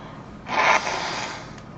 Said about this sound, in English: I'm blowing my nose on camera.